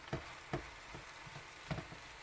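Zucchini cooking in its own water in a small, covered pan gives a faint, steady sizzle with a few soft clicks and taps.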